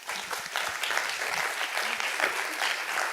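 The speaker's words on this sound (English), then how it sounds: "thanks a lot, and thanks for the applause." Audience at a climate talk clapping after the presenters finish, a continuous, moderately distant round of applause with scattered individual claps, fairly even throughout.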